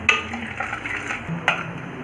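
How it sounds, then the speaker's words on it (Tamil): Peanuts and cashews frying in oil with mustard seeds and urad dal, a soft crackling sizzle under light stirring taps and scrapes of a spoon in the pan. "நல்லா ஃப்ரை பண்ணிக்கோங்க."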